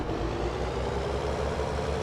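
A tractor engine idles in the video game Farming Simulator 19, giving a steady, continuous low rumble with no talk over it.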